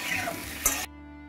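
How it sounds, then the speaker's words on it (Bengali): Potatoes fry in oil in a pan while a utensil stirs them, a brief close sizzle with a scrape and clink that cuts off abruptly. "একটু নাড়িয়ে ছাড়িয়ে দেবো,"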